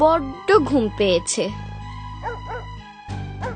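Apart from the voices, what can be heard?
dog barking at night in a cartoon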